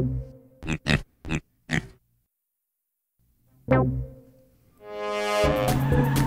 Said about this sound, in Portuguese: É um porco!